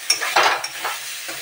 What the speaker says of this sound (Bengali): মশলাটা একটু ভাজা হবে।